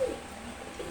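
A pair of khaki pigeons gives a faint, brief cooing, two soft coo notes about a second apart with nothing else around them.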